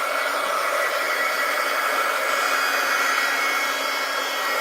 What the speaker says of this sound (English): Let's get the dryer out.